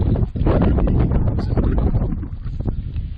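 Steady, loud wind buffeting the microphone on an Ontario backcountry lake, a constant low rumble with gusty fluctuations and no talking throughout.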